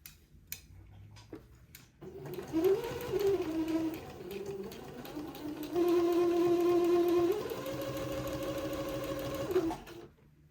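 A sewing machine tacks stitches on a garment in two sustained runs of steady, close-up whirring, the motor's pitch rising and falling slightly, with a short pause between them and quiet moments before and after.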